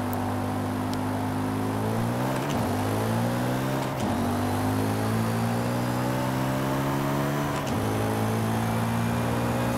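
Engine of a 2006 Audi RS4 in Forza Horizon 5, steady loud revving that climbs in pitch through the gears, with quick shifts dropping the tone roughly every two seconds, heard alone without talk.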